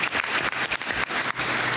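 Audience applause at a county schools budget town hall, a brief burst of close, brisk clapping from a modest crowd, dense and even throughout.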